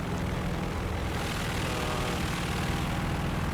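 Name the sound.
Bloch MB.152 propeller fighter plane engine, from a video game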